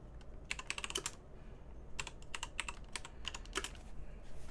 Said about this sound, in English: then we're going to type out get clone